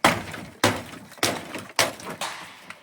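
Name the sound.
FatMax Fubar 2 pry bar smashing apart a shed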